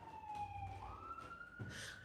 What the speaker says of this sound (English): I'm holding just for a siren.